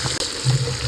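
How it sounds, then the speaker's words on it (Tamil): Water pours into a pan while uppu urundai is being made, a brief, close trickling splash lasting about a second. "தண்ணி சேர்த்துக்கலாம்,"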